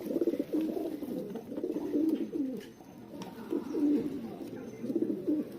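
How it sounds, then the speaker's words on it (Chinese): Racing pigeons coo continuously inside a loft, a steady layered murmur of overlapping low throaty calls with rhythmic swells, close and moderately loud, with faint background movement. "这只鸽子已经进来了"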